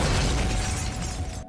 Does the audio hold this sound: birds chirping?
no